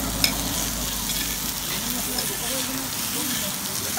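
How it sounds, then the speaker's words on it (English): Chicken sizzles on a hot plate at a restaurant: a steady, close, crackling fry that holds at an even level the whole time, with a faint voice mixed in beneath it. "Sizzling chicken."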